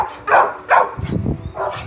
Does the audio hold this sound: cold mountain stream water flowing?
no